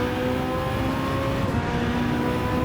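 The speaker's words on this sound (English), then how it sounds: "They run a V12, and you can hear that thing from miles away." Aston Martin V12 hypercar racing engine from Gran Turismo 7, a steady, loud tonal drone with sustained harmonics under a dense mechanical roar, holding level throughout without pause.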